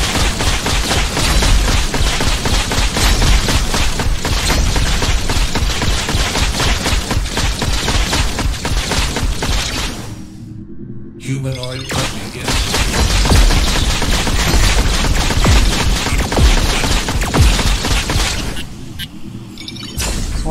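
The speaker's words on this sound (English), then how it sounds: "I feel like someone else is shooting at me." Dense, continuous automatic gunfire from the Scraper: First Strike VR game, loud and relentless with rapid bursts, broken by a brief lull near the middle before the shooting resumes.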